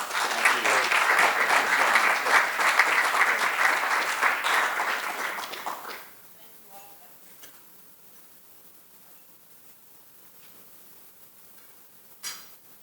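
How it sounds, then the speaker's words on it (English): Audience applause after a speaker's introduction at a Blackstone presentation, loud and sustained for about six seconds before fading into a quiet room with a few faint clicks. "But give Ashby a round of applause as well."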